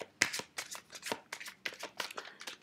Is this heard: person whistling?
no